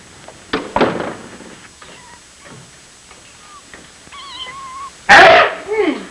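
Small kittens give a few thin, high meows, fairly close, and a sharp, loud cry stands out near the end, with some thumps and rustling around them.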